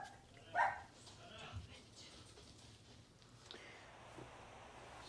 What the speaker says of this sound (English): dogs were causing quite the ruckus